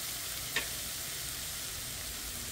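Onion hits a pan for a ribeye steak and mushroom dish, a quiet steady frying hiss with one soft clink near the start.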